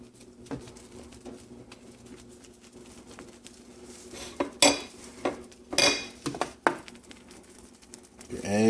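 A spatula scrapes and clatters around the edges of eggs in a pan for an omelet, making irregular metallic taps and scrapes that grow louder and busier toward the end.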